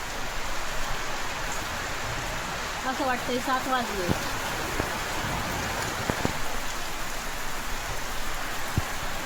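Heavy rain pours down in a dense, constant hiss of drops on surfaces, with a person talking briefly and a few faint chirps above the downpour.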